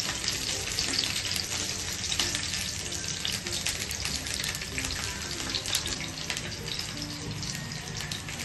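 A ginger, green chili and garlic paste fries in oil for restaurant-style crispy veg, making a dense, continuous hiss with fine crackling spatters that stays at an even level from start to finish.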